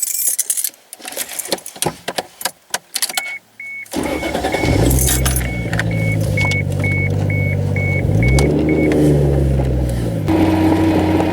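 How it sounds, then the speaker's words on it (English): Keys rattle and a door thuds before a car engine starts and runs, the motor rumbling steadily with light revving as the car pulls up a driveway, close and loud with a repeating chime. "All right, pulling up halfway my driveway."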